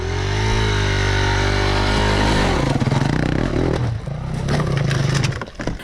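A 2012 Honda CRF 250 X dirt bike engine runs loud and close, holding a steady idle-like drone before revving unevenly with clattery, sputtering bursts and dips.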